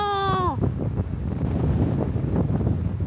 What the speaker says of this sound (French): Waouh, le vent.